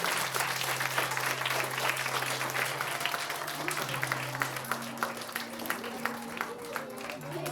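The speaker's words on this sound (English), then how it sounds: "you have to give a big round of applause" A TEDxYouth audience at KRM Public School breaks into a big round of applause, dense clapping that carries on steadily while a low sustained hum and some background voices sit underneath.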